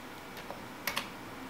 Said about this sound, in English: So if we just press space, it lets us type something